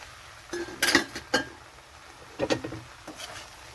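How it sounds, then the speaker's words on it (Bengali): Metal clinks and clatters of a lid being lifted off a cooking pot, several short sharp clanks in two separated bursts, close and moderately loud over a quiet kitchen background. "চাপাটা নামিয়ে নিচ্ছি।"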